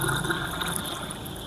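Water poured into a pot to make black tea in a home kitchen, a steady continuous splashing stream lasting the whole moment, close and fairly loud with no talking.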